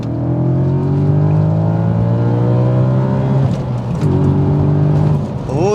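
An Audi 4.2-litre engine accelerates hard, its rising tone climbing steadily through a gear, a brief dip at a shift, then pulling up again, loud and close from inside the car.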